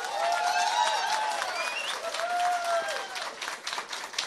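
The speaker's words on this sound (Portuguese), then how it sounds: "peço uma efusiva salva de palmas" Audience applause at a public hearing in the Brazilian Chamber of Deputies, steady dense clapping that stays moderately distant and soft throughout, with faint tonal sounds drifting over it.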